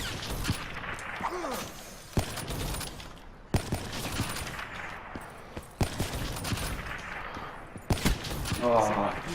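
Sniper shots ring out in the online game Call of Duty Black Ops III, several sharp cracks spaced a second or two apart, mixed with game effects and someone talking.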